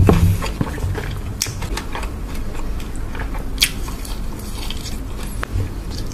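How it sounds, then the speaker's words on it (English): Crunchy, crispy fried chicken coating is bitten and chewed close up, with a steady run of crackling bites and sharp crunches and no talking. "I've been craving crispy, crunchy fried chicken."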